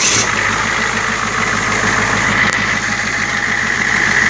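A 1993 Ford F350 welder's-body truck with an International engine idles close and loud in a steady, even rumble that holds without change.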